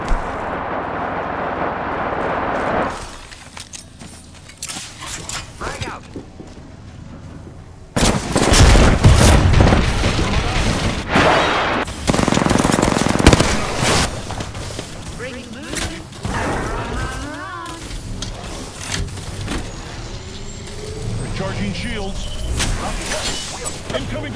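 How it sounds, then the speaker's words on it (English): Rapid bursts of gunfire and heavy explosive booms from an Apex Legends firefight, loud and dense through most of the stretch, with a voice calling out over the battle. "Taking fire, brother!"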